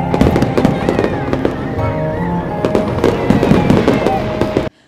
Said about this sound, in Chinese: 这次在基隆地标上面呈现的高空烟火灿烂夺目